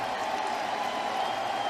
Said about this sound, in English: Huge round of applause for Danny Worth.